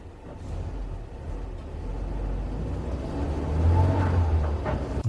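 A library recording of a road vehicle's engine runs at a steady drone and then swells as it revs up toward the end, with no talking.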